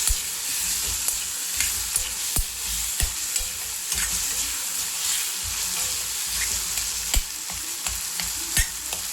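Onion, garlic and tomato frying in a pan, a bright continuous sizzle broken by repeated sharp taps and scrapes of stirring, close and fairly loud with no voices.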